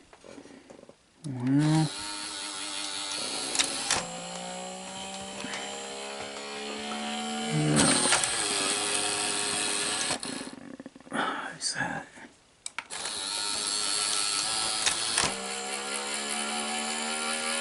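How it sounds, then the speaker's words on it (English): Inside a Sony SL-HF750 Betamax VCR, a motor whirs in long sustained stretches, stopping and restarting with mechanical clicks, while someone talks over it. "There's a motor or something."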